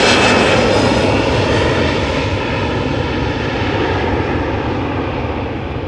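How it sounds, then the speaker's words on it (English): A KLM Embraer 175 regional jet departing Amsterdam Schiphol Airport, its engines giving a loud, steady broadband roar close by that eases slightly as the aircraft pulls away. "This is KLM flight 1157, Embraer 175 going to Gothenburg."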